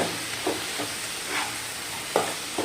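Spices for a roasted-coconut chicken curry stirred in a hot pan, with a steady low sizzle and several short scraping strokes of the spoon spaced irregularly, close up and with no talking.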